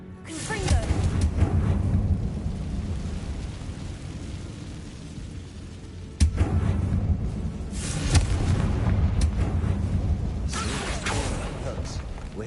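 Confringo blasting spell in Hogwarts Legacy, two heavy booming blasts several seconds apart, each followed by a long rumbling roar, with a voice speaking over the game sounds.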